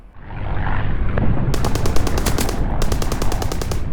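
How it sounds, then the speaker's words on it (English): Army gunfire during a massacre: loud, rapid automatic bursts start after a second and a half, with a brief pause before another sustained stretch of fire over constant background rumble. "6:50 p.m., they open fire."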